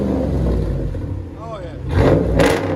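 A 2016 Ram 1500 with a 5.7L Hemi V8 and muffler delete drones low and steady from inside the cab, swelling briefly near the end, with speech over it.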